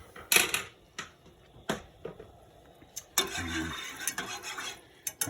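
A wire whisk stirs roux into milk for a bechamel base for cream of broccoli soup, giving quick metallic taps and scraping against the pot in short bursts, louder and more continuous near the end.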